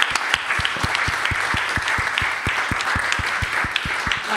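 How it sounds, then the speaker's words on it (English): An audience at a panel session applauds in a steady, dense burst of clapping that carries on evenly for several seconds, with no speech over it. "Can we please all applaud Carissa for being a strong voice for the consumers?"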